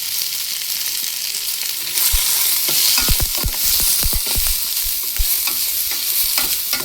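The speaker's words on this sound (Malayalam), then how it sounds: "സവാളയും പച്ചമുളകും ഒന്ന് നമുക്ക് വരട്ടിയെടുക്കാം." Onions and green chilies fry in hot oil while being stirred for a toddy-shop chicken roast, giving a constant close-up sizzle with a burst of sharp scraping and clattering strokes in the middle.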